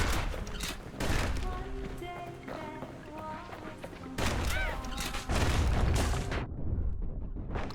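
Gunfire in the video game Bastion: bursts of shots and booming impacts mixed with game music, loud and dense, stopping abruptly near the end.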